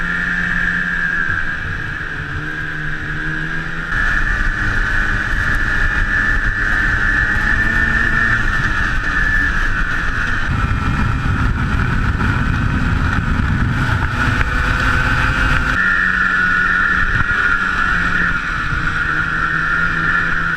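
A snowmobile engine drones loud and close while riding snow trails, a steady high whine with heavy wind buffeting that swells in the middle as the machine pushes harder.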